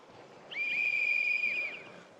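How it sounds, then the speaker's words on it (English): A single clear whistle blows in a zombie survival video game on brutal difficulty. The steady, piercing tone is held for about a second, close and loud over a quiet background. "starting off with a whistle"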